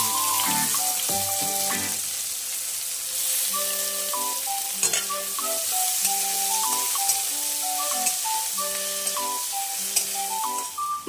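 Sliced onion fries in hot oil in a pan for an Eid mutton curry, a steady crackling sizzle under a background melody throughout.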